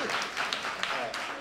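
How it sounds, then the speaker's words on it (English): A live audience gives a short burst of hand clapping on cue at an event, steady and fairly even for about a second and a half. "All right, give me a hand clap."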